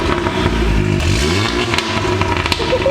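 Straight-piped Audi S3 engine revved a few times after warming up, loud raspy blips rising and falling in pitch, close by with some exhaust crackle and clatter between revs.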